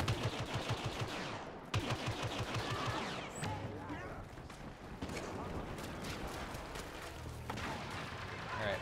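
Rapid bursts of blaster gunfire from a Star Wars Battlefront heroes-versus-villains match, loud repeated volleys with explosions mixed in, while players chatter over the shooting.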